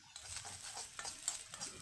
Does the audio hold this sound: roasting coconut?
yes